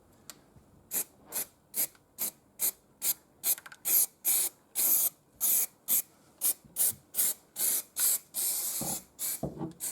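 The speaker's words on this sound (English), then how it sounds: "I can just go round with a bit of black paint here I just dust it in there" Black paint sprayed in short bursts inside the cab of a custom Austin A40 pickup truck, a rapid series of about twenty close, loud aerosol hisses with brief gaps, ending in a longer spray.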